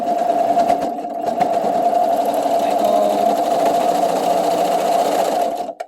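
A sewing machine stitches fabric while a sweater romper is being sewn, running as a steady close mechanical whir for nearly six seconds before stopping; a brief spoken word is heard near the start.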